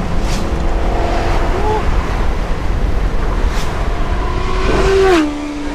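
High-performance sports car engine, an E92 M3 or Shelby GT350 with manual gearbox, revving in second gear from inside the cabin, rising pitch sweeps over steady road and wind noise.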